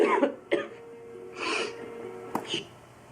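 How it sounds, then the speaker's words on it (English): A man coughs in a scene from the film Night Listener, a series of harsh, separate coughs and throaty bursts spread over a few seconds, close and fairly loud with no talk. "And then he coughs, as if being hung."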